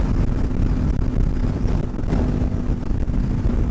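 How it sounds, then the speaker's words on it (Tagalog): Strong wind roars steadily over a motorcycle rider's helmet microphone on an open expressway, a loud, continuous broadband buffeting with no speech. "Ang lakas ng hangin pag nakayuko bang ganyan."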